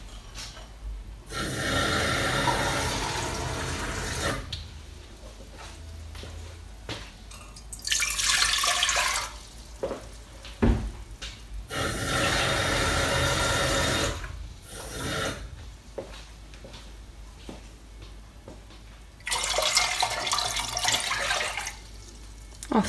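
Water runs from a kitchen tap into a measuring jug in several separate bursts, close by and moderately loud, with quiet pauses between the fills.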